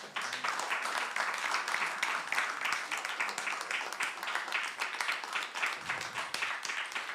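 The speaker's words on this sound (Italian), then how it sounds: "Un applauso anche a Matteo." An audience at an award ceremony for a literary prize in Olbia gives sustained, dense applause that lasts the whole stretch, many hands clapping at once in a hall.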